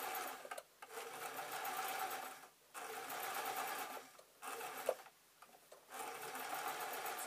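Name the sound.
sewing machine stitching owl pieces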